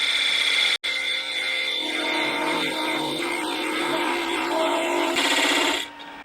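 A wooden ornament spins on a lathe while a tool undercuts its tenon, giving a steady whirring, scraping cut with a brief dropout near the start and the motor spinning down at the end.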